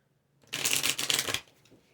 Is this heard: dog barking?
no